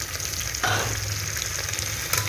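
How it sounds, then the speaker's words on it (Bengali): Onions and taro fry in oil in a pan with a close, steady crackling sizzle that briefly surges partway through as the food is stirred. "পেঁয়াজটা দেখো ভাজা ভাজা হচ্ছে, এবার আমি এর মধ্যে এই আগে থেকে ধুয়ে রাখা কচুগুলো সব দিয়ে দেব"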